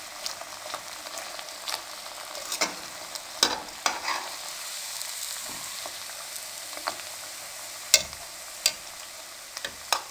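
Sweet jaggery tikkis fry until golden brown on both sides in a pan, giving a steady oil sizzle broken by sharp clicks and spatters, with no talking.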